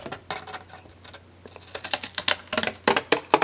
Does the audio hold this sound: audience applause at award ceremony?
no